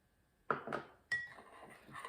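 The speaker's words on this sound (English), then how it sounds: "And you just stir that up." Spoon stirring flour and sugar for a blackberry cobbler batter in a bowl, heard as two quiet clinks against the dish followed by soft scraping, with no talk.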